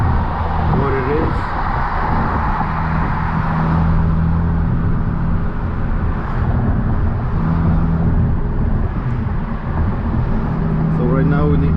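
A Hyundai Elantra N cruises along Golf Road in N mode with a steady engine drone and road noise inside the cabin, while someone talks over it.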